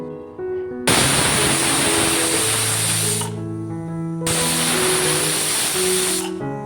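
A pressure cooker boiling chalta (elephant apple) vents steam in two long, loud hissing bursts with a whistling tone, each lasting a couple of seconds, with quieter bubbling and rattling between them.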